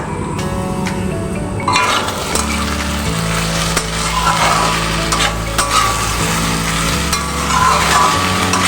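Gathi kochu (taro) curry with cumin and Kashmiri chilli powder being sautéed in a pan, a steady loud sizzle with scraping stirring strokes, no talking.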